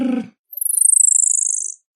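Slowed ultrasound recording of a perched bat's trill, a fast run of about thirty evenly spaced pulses sliding slowly downward in pitch, clear and alone after a brief voice at the start.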